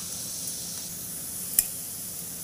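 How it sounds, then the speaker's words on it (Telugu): Food fries in a pan with a steady, moderate sizzling hiss, broken once by a single sharp tick partway through. "ఇంకా కొద్దిగా వేగితే చాలు ఫ్రెండ్స్. బాగా వేగిపోయాయి ఫ్రెండ్స్."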